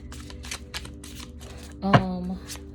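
Tarot cards riffle and flutter in a quick, close shuffle of soft papery bursts, with a brief tonal ring near the middle and a low steady hum underneath.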